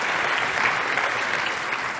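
An audience gives steady applause, a dense and continuous clatter of many hands clapping at once, filling the room without a break.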